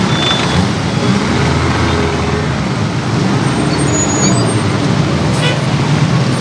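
Vehicles roll along a damaged road in Douala traffic, a dense, steady rumble of engines and road noise with a faint high squeal of brakes midway, while a voice talks over it.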